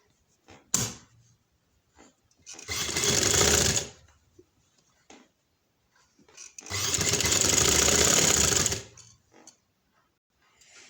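A sewing machine runs in two steady bursts, about one and three seconds, stitching fabric onto a trouser hem, with small clicks and handling noises between runs and no talk.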